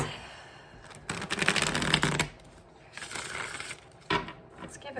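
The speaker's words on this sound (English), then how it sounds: "Let's give it one more good shuffle here." A deck of tarot oracle cards being shuffled by hand, with bursts of riffling and rustling card noise separated by short pauses, close and fairly quiet.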